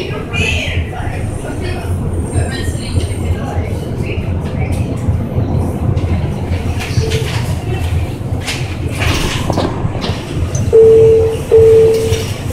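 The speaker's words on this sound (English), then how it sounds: "The train is approaching College Bayside Station." A Miami Metromover automated train rumbles steadily into College Bayside Station, wheels and motor humming under a calm automated announcement voice, ending with a brief high electronic chime.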